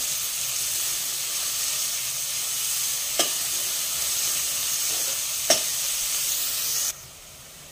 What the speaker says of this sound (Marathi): गॅस मोठाच ठेवायचा आता आणि छान कांदा परतून घेऊया।